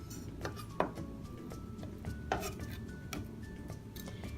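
Knife slicing and chopping an onion on a board, soft repeated taps and a couple of sharper knocks at an uneven pace, faint and close, no talking.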